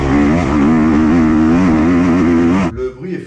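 A 125cc motorcycle engine revs loudly and steadily with a rough, crackling tone, then cuts off abruptly near the end, leaving fainter rumbling.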